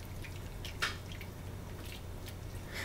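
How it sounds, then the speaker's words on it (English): Wet squishing and dripping as a spoon stirs a vegan curry corn pie mixture of cream corn and coconut milk in a bowl, faint and close, with a few sharper sloshes. "Give that a mix."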